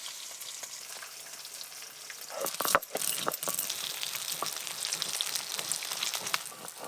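Pieces of fish belly frying in hot oil, a quiet crackling sizzle that grows busier and louder midway, with a brief clatter of utensil contact and steady spitting of oil afterward.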